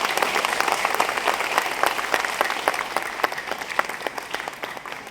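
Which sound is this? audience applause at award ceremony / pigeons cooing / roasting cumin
audience applause at award ceremony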